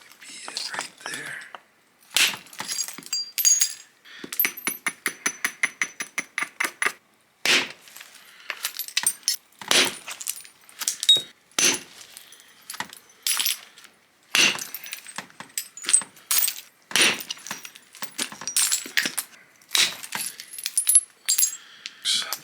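Flint is flintknapped on a large 22 lb stone, with a long series of sharp, glassy clicks and cracks in irregular rhythm, some fast runs of rapid taps, close and clear, with someone talking softly between strikes.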